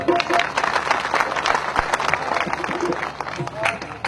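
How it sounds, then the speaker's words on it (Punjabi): An audience at a Punjabi stage show welcomes Makhan Brar with sustained, dense clapping that stays loud and even throughout, mixed with a speaking voice over the crowd. "ਸਵਾਗਤ ਕਰਦੇ ਹੋ ਤਾਲੀ ਦਾ"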